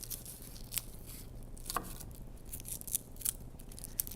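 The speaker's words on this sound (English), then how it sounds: "I've taken a couple of cloves off of that, and I'm going to peel those." Garlic cloves being peeled by hand, with faint dry crackling and tearing of papery skins in scattered short bursts, close and quiet over a low steady background hum.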